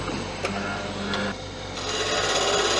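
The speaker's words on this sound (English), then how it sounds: "So sharpen this gouge a little bit." A woodturning gouge is sharpened, producing a steady close mechanical whine with a soft rasping grind and a few faint ticks, swelling slightly louder toward the end.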